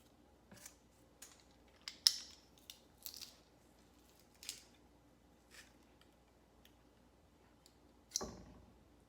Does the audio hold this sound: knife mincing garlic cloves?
yes